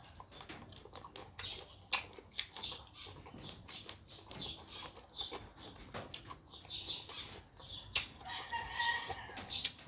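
Chickens cluck and a rooster crows close by amid busy farmyard bird calls and occasional wing flaps, with no talking.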